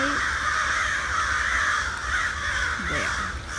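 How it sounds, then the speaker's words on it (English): Hundreds of crows caw non-stop while mobbing an owl in Eberwhite Woods, a dense, loud chorus of overlapping harsh calls filling the air throughout. "our Eberwhite Woods owl being harassed by hundreds of crows"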